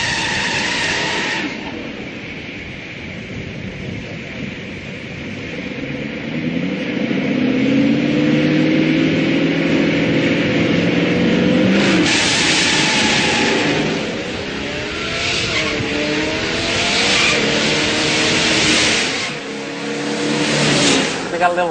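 A muscle car launches off the line with loud engine revving and tire spin, the roar building and swelling near the middle, then easing and surging again, a voice talking faintly beneath it.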